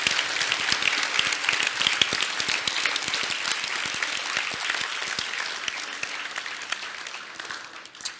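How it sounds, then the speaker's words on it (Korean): A church congregation at a testimony gathering claps together in a sustained burst of praise, crisp individual claps audible within the broad wash, holding steady before gradually easing near the end. "우리 하나님께 영광의 박수 올려드립니다."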